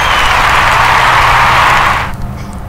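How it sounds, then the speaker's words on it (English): Applause for students at a town hall gathering, a loud, dense wash of clapping that holds steady and then cuts off sharply, leaving only quiet room sound. "Would we all please give a round of applause for these great students?"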